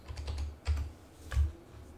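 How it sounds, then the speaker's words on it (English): Close keystrokes on a computer keyboard, a quick run of taps followed by two firmer separate presses, one of them the enter key, with no talking. "type in the word sweet. Okay, and hit enter"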